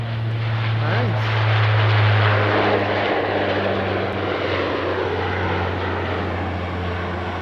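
A Dash 8 turboprop airliner drones steadily at an airport during an early morning departure, a loud continuous propeller-engine hum with a brief pitch sweep early on.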